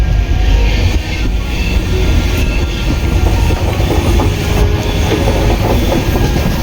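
The Kanchankanya Express 13149 rumbles along the rails through the Buxa Tiger Reserve in North Bengal, a loud, steady roar of wheels and carriages with faint clickety-clack, heard from on board without any voices.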